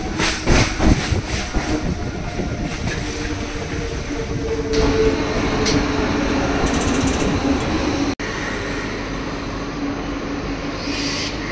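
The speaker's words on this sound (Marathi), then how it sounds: "कांदिवली स्टेशनवरून आम्ही चर्चगेट ट्रेन पकडली।" Mumbai local train ride from Kandivali toward Churchgate: loud continuous rumble of the moving train with rhythmic clatter of wheels over rail joints early on, steady roar and a brief squeal later, heard from inside the carriage.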